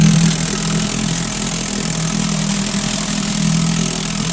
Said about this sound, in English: Runs nice, idles nice, accelerates nice.